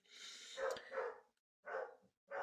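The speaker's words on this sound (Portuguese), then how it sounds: "Cachorro latino aí de fundo" A dog barks off in the background behind a game of Age of Empires III, giving a cluster of two or three barks, then a short pause and two more bursts, moderately distant and without talk over them.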